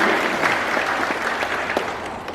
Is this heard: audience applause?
yes